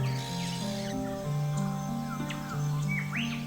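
Birds call in the Daintree tropical rainforest of Australia, with several clear chirps and swooping whistles over a continuous layered backdrop of sustained tones and forest ambience.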